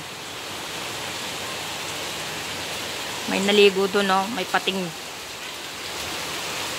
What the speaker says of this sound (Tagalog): Maulan dito sa amin.